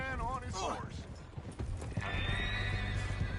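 Horse hooves clip-clop and a horse whinnies in Red Dead Redemption 2, mixed with a sliding neigh early on, a low steady rumble and a sustained high tone later, fairly quiet overall.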